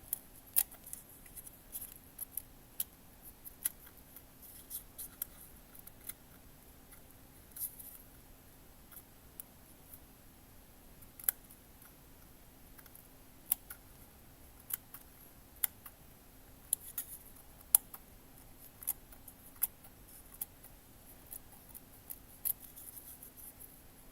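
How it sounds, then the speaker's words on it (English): Scissors snipping paper for a small handmade miniature kitchen: sparse, sharp little clicks spaced irregularly over a quiet room with a faint steady hum. "And then maybe use my scissor to cut it off."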